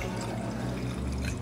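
Pinot wine poured generously into a tasting glass at a Santa Barbara tasting room, a steady close liquid trickle lasting about a second and a half with faint room murmur behind it.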